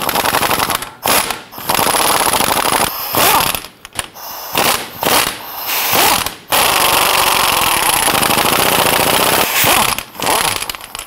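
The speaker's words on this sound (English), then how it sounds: "Now we're going to remove the Allen bolts on the rear of the front drive shaft first" An impact tool loosens Allen bolts at the rear of a Jeep Grand Cherokee 3.6L V6 front drive shaft with a number 8 Allen bit, rattling loud and close in long hammering bursts broken by brief pauses.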